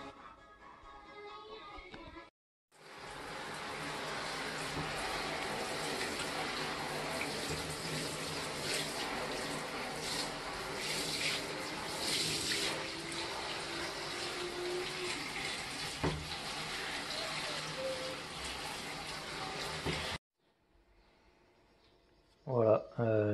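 Hot water from a shower runs over fiberglass coral supports made for a reef aquarium, a continuous close hiss of spray lasting about eighteen seconds, with brief voices and handling noises before and after.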